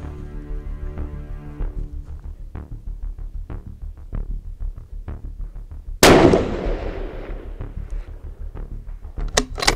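A single loud, sharp report from a 16-inch-barrel .308 Win rifle firing 169gr Sierra MatchKing rounds at a 680-yard target outdoors. The blast rolls off slowly and comes after a steady low throbbing hum with faint ticks.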